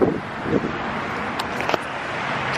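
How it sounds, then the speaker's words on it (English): Strong, cold wind blowing outdoors at sunrise among trees, a steady gusty roar buffeting the microphone with occasional faint rustles. "It's really windy, but look how pretty the trees look with the sun rising."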